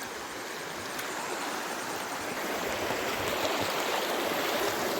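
Water rushes steadily over a weir near a lake during the rainy season, a constant broad roar that builds slightly and has no talk over it.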